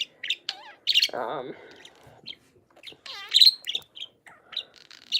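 A pet bird indoors gives a series of close, bright chirps and warbling calls in short bursts, with a few quiet sounds between them.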